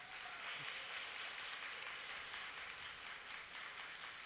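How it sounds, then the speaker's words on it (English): A live audience applauds a singer after her performance, a steady wash of many hands clapping heard from a distance, fairly faint and unbroken throughout. "the intensity of the claps is proof enough for that"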